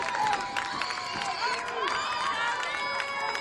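At a high school varsity football game, a crowd in the stands cheers and claps, a busy distant mass of voices with scattered hand claps, and whistles ring out through the noise.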